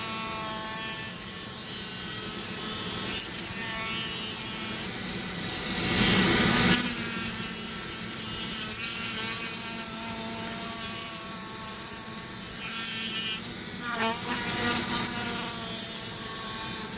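Dremel rotary tool running near 10,000 RPM as it carves a purpleheart wood ring, a loud, steady whine with grinding surges where the bit bites into the wood, and no voices.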